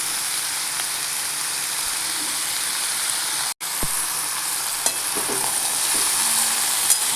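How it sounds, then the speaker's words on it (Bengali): Chopped radish and pumpkin frying in a pan give a continuous close sizzle, broken by a brief pause and then stirring scrapes, with no talking. "এবার ভালো করে নেড়ে নিয়ে একটু ভেজে নিই সবগুলোকে"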